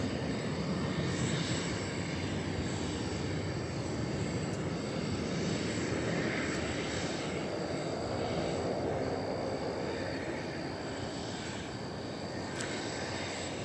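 Airplane at DFW Airport giving a steady, broadband engine roar that holds loud and even throughout, like a nearby jet passing or taxiing, with no voices.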